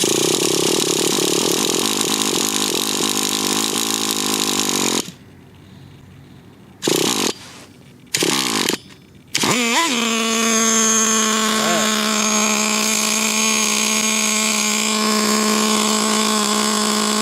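A Traxxas T-Maxx nitro RC truck engine buzzes loudly, cuts out, sputters through a few brief bursts, then catches and settles into a steady, close, high-pitched idle.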